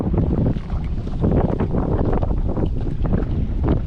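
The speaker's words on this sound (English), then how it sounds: "As slow as the motor will go, the outboard motor." Outboard motor on a small fishing boat idling along at its slowest speed in a bay near a river mouth, a steady low rumble mixed with wind buffeting and water noise.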